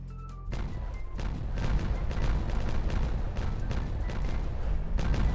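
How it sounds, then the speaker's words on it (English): Something is blown up in the Timberborn video game, heard as a dense run of booming blasts and crackling bursts that keeps going steadily and loudly. "we're gonna blow this up now"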